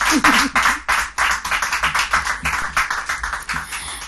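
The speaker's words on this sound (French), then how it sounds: "On va quand même applaudir pour Joyce" A studio audience claps for a contestant on a French-language TV game show, the clapping dense and close at first, then thinning into a steady, rhythmic patter of fewer hands, with no talking over it.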